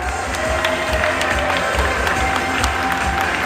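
Audience applauding as a guest is introduced at a Thai promotional event for an Oishi and One Piece campaign, dense steady clapping with crowd noise filling the room throughout.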